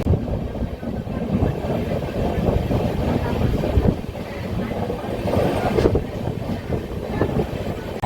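Kriya Yoga Express train rolling across the Kolaghat bridge, a steady loud rumble of wheels and carriage noise with wind buffeting throughout, heard from on board.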